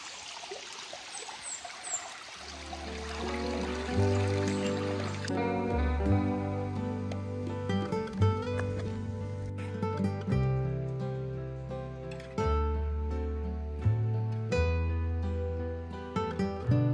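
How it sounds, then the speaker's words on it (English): Winter creek flowing near an old hut, a soft trickling rush heard for the first couple of seconds before music takes over. "Creek just down here."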